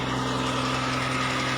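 A Multicab engine running on wood gas idles steadily nearby, a loud continuous hum with a low, even throb and no voices over it.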